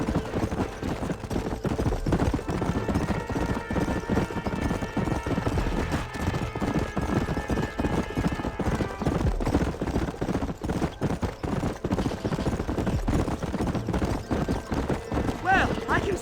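Rhythmic hoofbeats of a horse at a gallop pound steadily throughout a Red Dead Redemption game scene, mixed with game sound effects and occasional whinnies while characters talk over the action.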